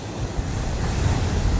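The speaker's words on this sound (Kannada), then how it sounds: "ನೋಡಿ ಇವಾಗ ನೀರು ಹರುತ್ತೆ" Sea waves wash in at Bekal Fort in a loud, continuous roar of surf, with heavy wind buffeting the microphone and no talking.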